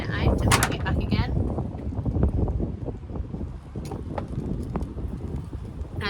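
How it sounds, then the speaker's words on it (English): Strong gusty wind buffets the microphone on a wet, windy weekend outdoors, with heavy rumbling bursts and scattered knocks while someone talks over it. "sorry, it's still windy"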